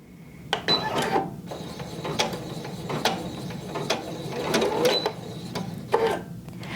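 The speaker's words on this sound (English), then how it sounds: "I'm gonna press start, I'm gonna let it do a couple stitches and then press pause again." An embroidery sewing machine stitching, a rapid mechanical clatter with sharp repeated ticks and whirring, close and fairly loud, with a few pauses and short bursts through the run.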